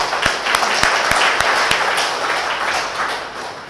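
Audience applause at a workshop on export and import documentation and procedures, a steady dense wash of many hands clapping throughout, with a few sharp nearby claps standing out early on.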